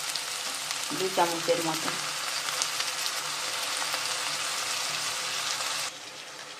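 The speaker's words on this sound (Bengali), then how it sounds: "আর আমি দিয়ে দেবো জিরে বাটা আর লঙ্কা বাটা" Cumin paste and chili paste fry in a hot pan, giving a steady loud sizzle, with a few spoon clinks early on and someone speaking briefly before the hiss drops in level near the end.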